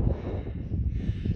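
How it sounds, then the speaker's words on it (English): Strong gusting wind on a steep mountain hiking trail, buffeting the microphone as a loud, low roaring rumble that swells and dips over a brief moment. "It's so windy up here."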